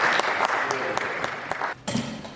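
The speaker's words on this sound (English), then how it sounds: "give yourself a big round of applause" Applause from the audience at a book launch event, a burst of clapping that runs steadily and then drops out briefly before resuming, with some talk or crowd noise mixed in.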